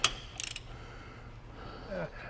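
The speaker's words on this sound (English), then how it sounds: "So we're going to back these bolts off." Ratchet backing off the 3/4 main cap bolts on a Ford 8.8 differential: a single short burst of quick, faint clicks near the start, otherwise quiet shop room tone.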